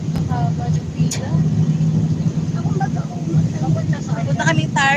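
Cars in heavy, slow road traffic, heard as a steady low hum of idling engines and road noise with occasional revs, while people talk nearby throughout.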